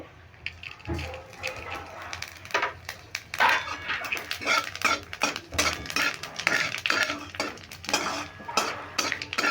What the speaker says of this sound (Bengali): আর দুটো লবঙ্গ ফোড়নটাকে খুব ভালো করে ভেজে নিচ্ছি এবার দিয়ে দেব গোটা জিরে